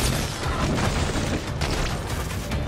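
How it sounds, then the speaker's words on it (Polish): Fireworks in inFamous: Second Son: a dense, continuous roar of booms and crackling bursts, loud and sustained for the whole stretch with no voices. "Fajerwerki, stary!"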